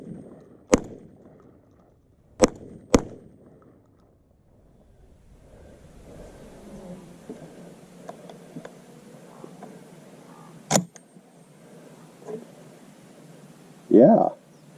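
Hand-loaded extended-range buckshot rounds fired from a shotgun at an outdoor range: four sharp, loud reports, three within the first few seconds and one later, with wind noise and faint voices in between.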